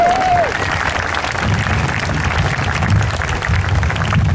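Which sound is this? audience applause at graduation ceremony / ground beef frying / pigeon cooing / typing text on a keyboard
audience applause at graduation ceremony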